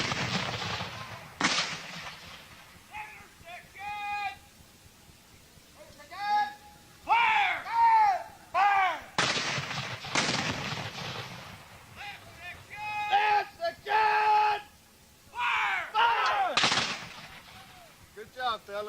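Cannon fire during an artillery gun drill, with several sharp loud blasts spread over the stretch, separated by shouted commands and voices.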